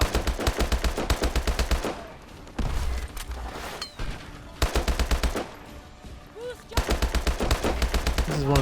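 Call of Duty: Advanced Warfare campaign gun firing in several rapid automatic bursts, each a crisp fast rattle of shots separated by brief pauses, loud and close.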